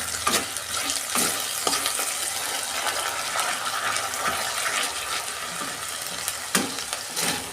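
Ginger garlic paste frying with already-fried onions for a spicy fish curry, stirred steadily with a spatula: a continuous close sizzle broken by sharp scraping knocks against the pan, with no talking.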